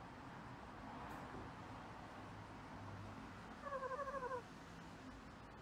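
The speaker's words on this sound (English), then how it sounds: "Think of the cat." A cat meows in the video game Goodbye World: a quick run of short, quiet mewing calls in the middle of the clip over a low background hum.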